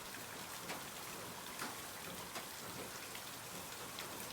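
Gentle rain falls steadily at night in a broad, even patter of drops on surfaces, soft and continuous with faint scattered ticks and no voices.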